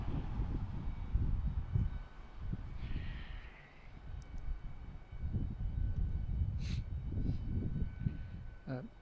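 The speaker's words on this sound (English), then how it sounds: "think I hear an engine running over there" A distant aircraft engine drones low and steady beneath outdoor airport ambience, rising and falling slightly, with a few faint chirps.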